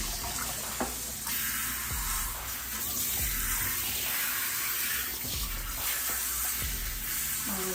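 Tap water runs steadily while a cat is rinsed after soaking in a mild degreaser solution, a continuous close splashing hiss with small shifts in flow from start to finish.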